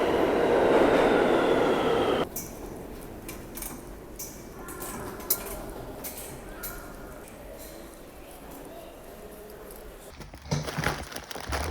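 A New York City subway train rumbles loudly at first, then rolls on with rhythmic clicking and rattling, ending in a burst of squealing and clatter as it moves along the tracks.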